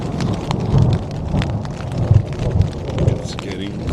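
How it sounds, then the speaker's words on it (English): A thunderstorm in Glacier National Park, Montana, drums rain onto a backpacking tent, with steady pattering and low rumbles rising and falling, and a person speaking quietly under it. "Just kind of waiting out the storm in the tent."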